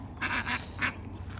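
A mother duck quacks near geese, three quick nasal calls in succession, fairly close, over quiet outdoor background with no voices.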